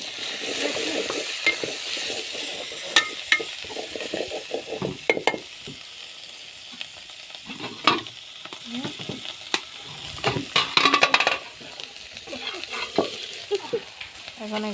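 Prawns stir-fried with spices and turmeric in a pan sizzle steadily up close, punctuated by frequent spatula scrapes and knocks against the metal.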